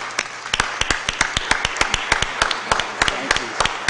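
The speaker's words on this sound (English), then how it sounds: "Let's give them a big round of applause." An audience applauds after a call for recognition at a Board of Aldermen meeting: sparse, fairly close individual claps in an irregular rhythm from a modest crowd.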